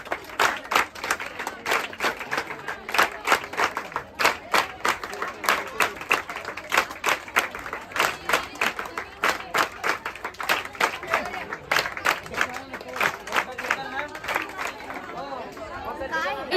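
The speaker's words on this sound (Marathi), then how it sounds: "टाळ्या वाजवायची फक्त, टाळ्या." A crowd claps hands together as a group activity during a Diwali shopping outing, with rapid, uneven bursts of applause mixed with chatter and voices throughout.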